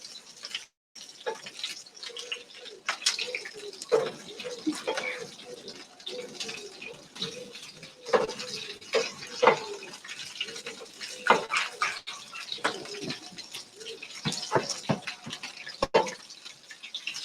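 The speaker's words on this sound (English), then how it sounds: "Cheese is frying lovely." Cheese sizzles and crackles in a pan, with irregular pops and spatters scattered over a soft hiss.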